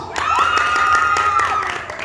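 Audience applause and cheering from a crowd with children shouting at a lively anniversary show, a steady roar lasting throughout with a loud sustained whistle or tone riding over it.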